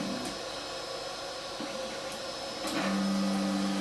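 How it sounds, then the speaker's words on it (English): JGAurora A5S 3D printer homing its nozzle, a steady motor hum with a few faint clicks, then a sustained low stepper drone as an axis moves near the end. "The nozzle homes itself so it gets an accurate reference point."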